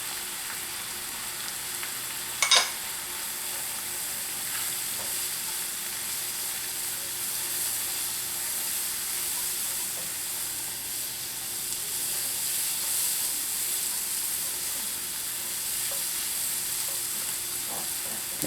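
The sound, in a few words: flour browning in a frying pan for beef stroganoff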